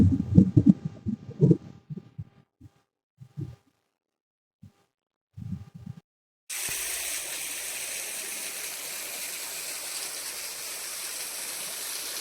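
A hillside waterfall at Seethampeta with low summer flow gives a steady, broad rushing wash of water that starts abruptly partway through and continues evenly, close and moderately loud, after a stretch of scattered low thumps and quiet.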